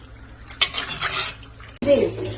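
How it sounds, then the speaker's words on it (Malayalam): Dried curry leaves drop into a hot pan with a brief sizzle and stirring scrape, a soft clatter of utensil against the pan, then a louder burst of frying near the end. "ഉണങ്ങി ചുങ്ങിയേക്കണ് കറി ലീഫ് അത് ഇതാക്കി ഇങ്ങനെ തന്നെ ഇട്ട് കൊടുക്കട്ടെ"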